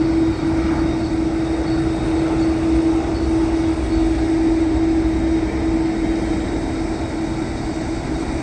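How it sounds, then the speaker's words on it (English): A Qantas Airbus A330 airliner at Sydney Airport, heard from an outdoor viewing spot in the evening; a steady, loud jet engine roar with a sustained tonal whine, continuous and unbroken throughout. "And this is Qantas Airbus A330."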